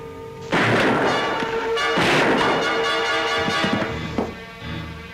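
Gunshots in an old-time radio drama shootout over the Yukon mail robbery, several sharp, loud cracks with ringing, echoing tails, spaced over a few seconds and close to the listener.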